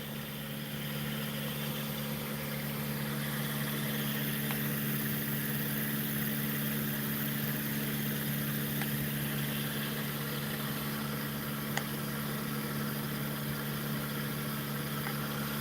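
A pulse motor generator with a reed switch and trifilar coils, fed 31 volts, runs at about 1,150 RPM, giving a steady electric hum with a faint rhythmic whir that stays constant throughout.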